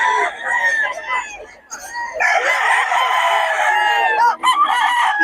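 Rooster stags at a cockfighting farm in Bocaue crow and cluck close by in overlapping bursts, a loud continuous chorus of calls with no talk.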